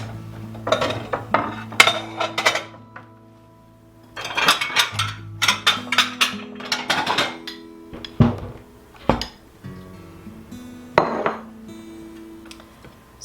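Knife chopping fresh peppers into strips on a kitchen board, a run of sharp, close taps and clicks arriving in quick bursts with short pauses between, with faint clinks of utensils and no talking.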